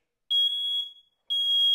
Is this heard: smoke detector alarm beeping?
yes